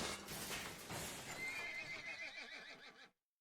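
A horse whinnies loudly in the painterly video game The Procession to Calvary, a long quavering neigh with hooves clip-clopping beneath, ending abruptly in silence.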